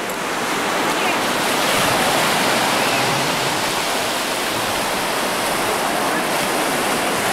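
Ocean waves at a Florida beach make a continuous broad roar of surf, loud and close, with no clear breaks between waves and a possible faint voice beneath the wash.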